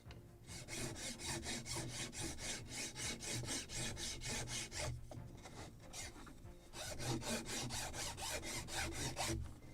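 A hand file rasps back and forth along a wooden yard for a Model Shipways Gunboat Philadelphia (1776) kit, a close, steady series of quick scraping strokes with a brief pause midway before the rhythm resumes.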